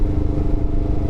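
A Honda NX500 motorcycle engine drones loud and close in a brief, steady, high-revving burst during an acceleration run toward 10,000 RPM with the ECU butterfly limiter removed.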